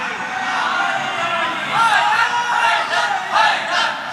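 A crowd at a religious gathering celebrating a saint's birth anniversary at a Qadri khanqah raises loud, rhythmic chanted slogans in surging bursts, voices overlapping close and strong.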